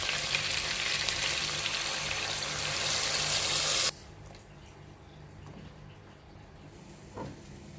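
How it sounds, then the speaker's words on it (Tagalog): Chicken browning in a pot sizzles loudly before water is poured in for Filipino tinolang manok; the frying hiss cuts off suddenly, leaving a quiet simmer with a faint clink. "Pwede nang lagyan ng tubig."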